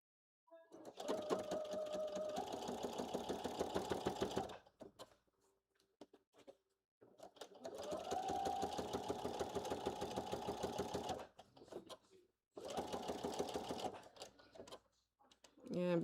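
A sewing machine back stitching a blazer seam runs in three bursts of rapid, even needle clatter, close and loud, separated by short pauses with faint handling.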